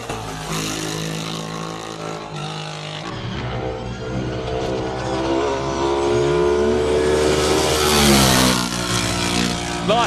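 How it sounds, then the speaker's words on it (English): Single-seater race cars climb a hillclimb course at a Cape Town speed classic, engines revving hard and rising in pitch through gear changes, loud and close, with crowd or commentary noise mixed underneath. "Single seaters having their chance up the hill"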